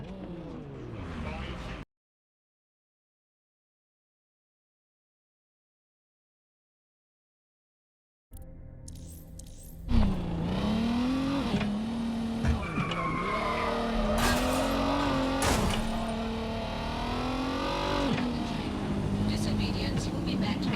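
In Watch Dogs: Legion, a game car roars into motion after a brief stretch of silence, its tires squealing and skidding loudly and continuously over a sustained engine drone, with a short voice heard before the gap.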